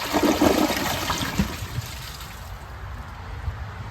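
A Glacier Bay dual flush toilet flushes a rag and a washcloth. A loud, close rush of water gurgles down within the first second and a half, then fades into a quieter trickle as the bowl refills.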